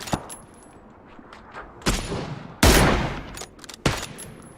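Gunfire rings out in a PUBG squad match on the Vikendi map: a few sharp single shots, then a louder close burst and another crack, spaced over a quiet background.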